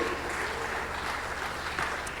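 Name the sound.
congregation applause in church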